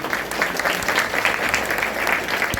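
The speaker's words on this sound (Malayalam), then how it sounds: "നല്ല കൈയടി കൊടുക്കുക" Steady applause from an audience at a school Independence Day event in Muhamma, sustained clapping with no break across the whole stretch.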